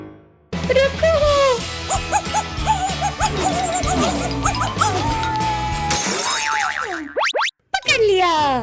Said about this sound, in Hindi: ये क्या है? कुत्ता।